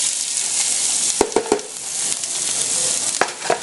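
Onion sizzles in hot olive oil in a pan for paella, a steady loud hiss broken by several sharp scrapes and clicks of stirring, close by with no talk.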